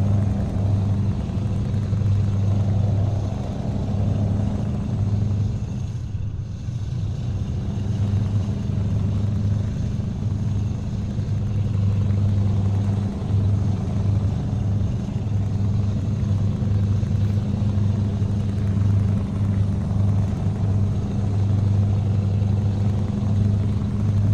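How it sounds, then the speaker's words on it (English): A heavy truck engine in the video game Euro Truck Simulator 2 drones on steadily and loudly, a constant low rumble that barely changes from start to finish, with no voices. "my engine sound overpowers everything"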